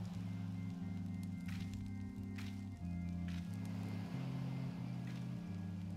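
A siren's song drifts over water in Final Fantasy XIV, a low, sustained melodic tone sequence stepping through held notes, quiet and continuous with faint airy accents above.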